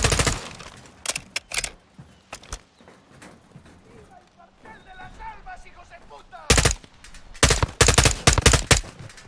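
Gunfire aimed at an aircraft in the Call of Duty Modern Warfare 2 campaign comes in sharp, loud bursts early on, then turns heavier and rapid near the end. Voices and quieter game sounds fill the gap between.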